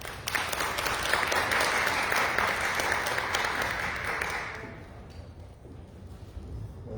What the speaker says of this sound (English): I'd like you to welcome him with a round of applause